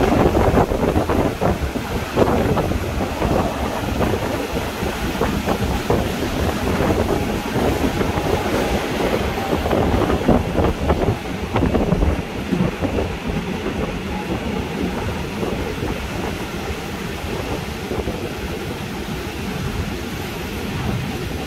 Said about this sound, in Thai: รถจะเข้าหลีนะครับสถานีห้วยลาดนะครับ